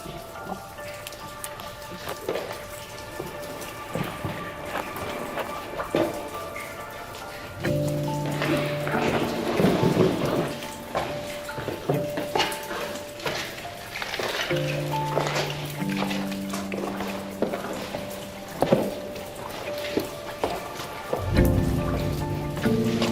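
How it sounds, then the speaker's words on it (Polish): Heavy water dripping and pattering steadily through the Malinowska cave, a dense rain-like spatter that continues for the whole stretch beneath some faint tonal sounds. "tej wody tutaj kapie bardzo, bardzo dużo"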